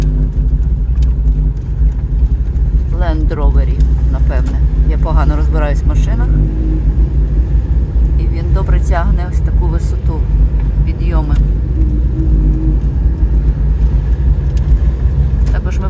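A Land Rover drives up a mountain road, its engine giving a steady, loud rumble with mid-range tone throughout, while people talk inside the vehicle over the running motor.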